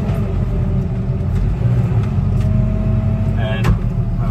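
JCB TM 320 telehandler engine running steadily while loading a muck trailer on a farm, a continuous loud low rumble throughout with a brief higher mechanical whine near the end.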